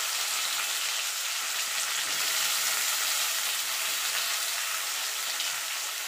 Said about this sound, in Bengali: আমি আলুটা আলাদা ভেজে দিচ্ছি